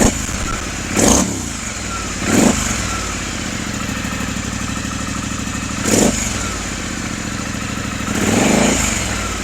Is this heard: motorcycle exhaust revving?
yes